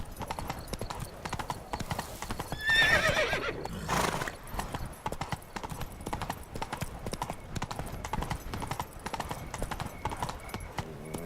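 Roach, Geralt's horse in the video game The Witcher 3, trotting with steady rhythmic hoof clip-clops throughout and a loud neigh a few seconds in.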